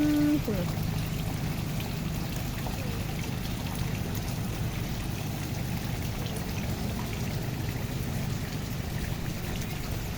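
Steady rain patters and hisses continuously on surfaces nearby, a dense even downpour with no pauses.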